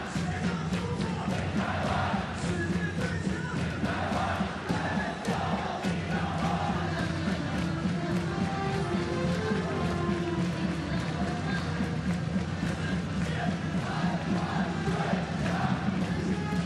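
A packed baseball stadium at a World Baseball Classic game between Chinese Taipei and Italy roars during a mound visit: a dense, unbroken wall of cheering, chanting and yelling from a large crowd, loud and sustained, with a voice talking underneath.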